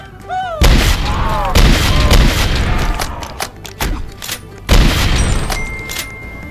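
Close, loud bursts of gunfire in the Roblox game Dead Rails, with several heavy booming shots repeated every second or so over a continuous rumbling battle backdrop and bits of talk in between.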